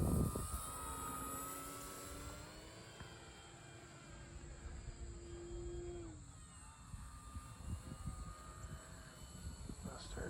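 An E-flite Trojan T28 RC model airplane, a 1.2 m warbird with a fault in its retracts, makes a low pass, its engine drone steady and fairly close before the pitch drops as it passes by.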